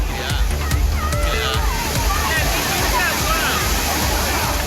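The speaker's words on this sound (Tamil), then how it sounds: "இதேபோன்று கும்பக்கரை அருவியில் திரண்ட மக்கள் உற்சாக குளியலிட்டு மகிழ்ந்தனர்." Kumbakkarai waterfall crowded with people bathing, a continuous loud rush and splash of falling water with voices and crowd noise mixed in throughout.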